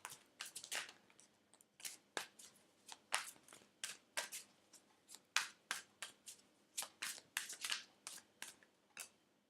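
Mucha Tarot deck being shuffled by hand, a rapid series of crisp card riffles and slaps in an uneven rhythm, close and fairly quiet, with no voices.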